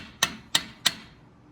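Three sharp metallic taps of a hammer on a Jeep Wrangler brake caliper, evenly spaced about a third of a second apart, close and crisp with short ringing decay and no talking.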